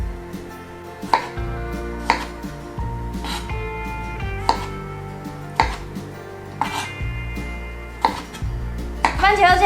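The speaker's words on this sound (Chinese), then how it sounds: "我们就把番茄切成滚刀块" A knife cuts tomatoes into roll-cut chunks on a board, landing crisp thuds about once a second over a soft tonal background.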